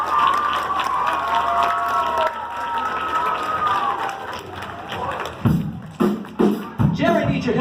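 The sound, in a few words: audience applause for the band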